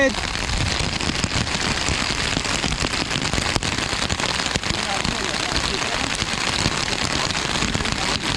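Heavy monsoon rain pours down steadily on a fishing outing, a dense continuous hiss with sharp drops spattering on nearby surfaces.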